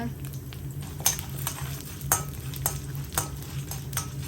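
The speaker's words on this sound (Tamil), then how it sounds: "கடலைப்பருப்பு போட்டு நல்லா அது வந்து ரோஸ்ட் ஆகட்டும்" Chana dal roasting in a pan for tomato mint chutney, stirred with a utensil: a soft steady sizzle under repeated scraping strokes against the pan, close and fairly quiet.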